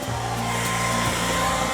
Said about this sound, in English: using a hair dryer to try to thaw them